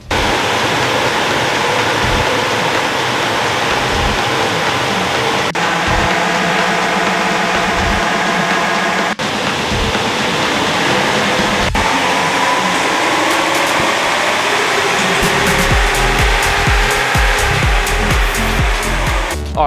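A Nissan NP300 Navara or Toyota N80 Hilux diesel ute engine roaring on a dyno through three pulls, a loud sustained rush of engine and fan noise rising in pitch with brief breaks between runs.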